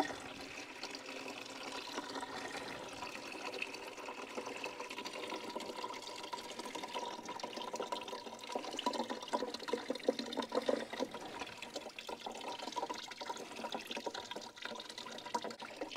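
Fresh cider streaming from a wooden press outdoors, a steady close trickle and splash of liquid running continuously without a break.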